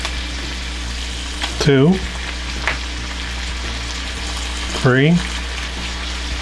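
Four cloves of minced garlic sizzle steadily in a pan for a spaghetti sauce, a constant frying hiss running under a voice that counts aloud twice.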